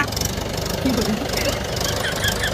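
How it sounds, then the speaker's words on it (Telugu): A motorbike engine knocks with a coarse, tractor-like chug, running steadily and fairly close throughout, with a brief voice in the background. "బండి ఏంటి తమ్ముడు ట్రాక్టర్ సౌండ్ వస్తుంది?"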